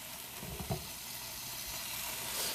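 Chicken searing in a pan for a keto-friendly dinner, a low steady sizzle with a couple of brief stirring knocks near the start, quiet and without talk.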